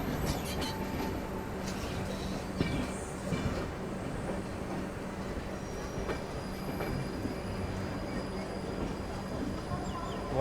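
Inside a sleeper-class coach of the 12774 Shalimar SF Express from Secunderabad to Visakhapatnam, the train rolls toward a platform with continuous wheel rumble, rattling and metallic squeals of the wheels on the rails.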